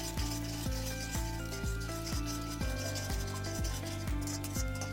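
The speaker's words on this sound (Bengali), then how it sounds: "অল্প একটু তেলের মধ্যে দুটো ডিম দিয়ে দেব। ডিম দুটোকে আমি ভালো করে নেড়ে চেড়ে" Two eggs scrambled in a little oil in a pan are worked by a spatula in a steady rhythm of scraping strokes about twice a second over a faint sizzle.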